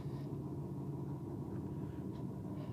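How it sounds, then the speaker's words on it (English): Mazda RX-7 engine idling at a drag race, a steady low rumble that holds near and even with no clear revs or talk over it. "next up, Stewie's a little RX-7. You can hear it purring away."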